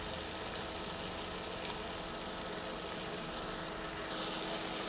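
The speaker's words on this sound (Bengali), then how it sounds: "কাজুটা দিয়ে দিয়েছি এরপর আমি ভালোভাবে নাড়াচাড়া করে দিচ্ছি" Cashews fry in a pan with a soft, even sizzle that continues throughout, faint and steady with no distinct stirring strokes or voices.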